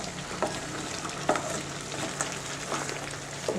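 Spices with a little turmeric fry in a pot while being stirred, a continuous sizzle overlaid with scraping strokes and occasional knocks, without any voices.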